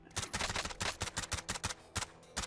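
An MP5 submachine gun fires in Call of Duty Warzone zombie mode as a steady run of rapid, evenly spaced shots, a dozen or more crisp cracks at a moderate distance, with no talking.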